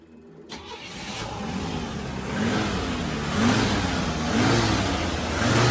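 A 1986 Pontiac Bonneville engine cranks and catches, then revs in repeated rising and falling surges that grow stronger, loud and close, with no talking.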